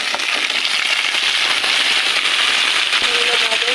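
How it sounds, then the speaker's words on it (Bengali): Vegetables poured into a pan of fried onion and chili set off a loud, steady sizzle and crackle that stays even throughout. "এখন এই যে সবজি ঢেলে দেবো দেখেন"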